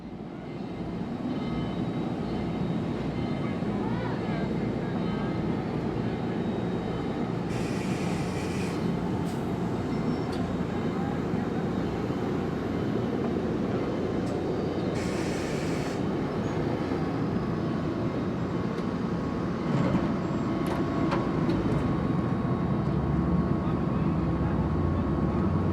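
Central of Georgia 699, a steam locomotive disguised in another form, rumbles steadily with a continuous loud roar of running train, faint whistle-like bursts rising briefly twice.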